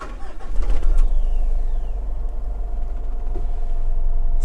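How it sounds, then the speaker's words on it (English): A manual Mitsubishi Strada pickup's engine turns over and fires up, then settles into a steady low idle rumble that carries through to the end. "Step it on and then start up your ignition."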